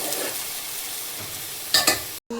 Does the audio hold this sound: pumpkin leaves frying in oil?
yes